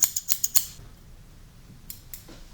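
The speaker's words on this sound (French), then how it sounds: "Je prends des ciseaux." Quick metallic snips of scissors cutting hair, about five in a fast run, then a pause and two more, close and crisp against a quiet room, recorded binaurally.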